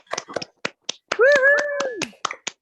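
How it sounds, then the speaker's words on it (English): Scattered claps and snaps come from a few people on a video call, sparse and uneven rather than a full ovation, while a voice cheers loudly across the middle. "I think we should give them a round of applause"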